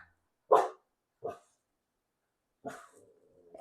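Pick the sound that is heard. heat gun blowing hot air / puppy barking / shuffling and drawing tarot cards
puppy barking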